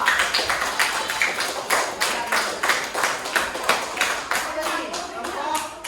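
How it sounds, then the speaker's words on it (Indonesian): A classroom of students claps for a group in an Indonesian lesson, a steady run of sharp, distinct handclaps at close range, fairly loud and continuing without talk. "Ya, tepuk tangan untuk kelompok 2."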